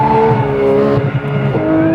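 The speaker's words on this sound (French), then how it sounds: "Ce qui est important d'entendre, c'est le bruit du moteur qui lui gueule et répond vraiment bien quand on en a besoin." A Porsche 911 GT3 engine revs hard on a race track, a loud continuous high-pitched wail with rising and falling pitch as the driver works the throttle, close and without voices.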